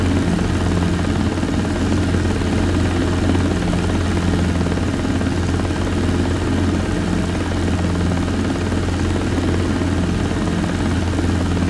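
A Robinson R22 helicopter flies near a runway, its steady, loud rotor and engine drone heard from inside the cabin without a break.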